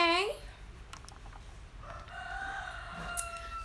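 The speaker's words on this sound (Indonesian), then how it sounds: "Tuh kan, ada ayam." A rooster crows once, close and fairly loud, with a rising then falling call at the start, then steady background hum and faint indoor noise. No one speaks.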